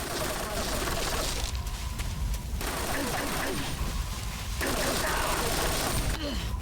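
Dense, continuous gunfire from a Metal Gear Solid 3 battle, loud and sustained with brief dips, sharp shots layered over game noise and a voice now and then.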